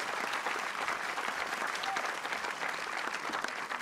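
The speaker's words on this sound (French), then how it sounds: "Allez, les applaudissements lévusiens pour montrer que nous avons cette chaleur dont vous savez faire preuve." Audience applause at the closing ceremony of the Saint-Jean-de-Luz International Film Festival, a steady, dense crowd clapping that continues unbroken throughout.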